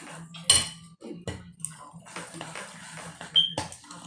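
Corn casserole ingredients being mixed in a dish, with a spoon clinking and scraping repeatedly against the dish at close range.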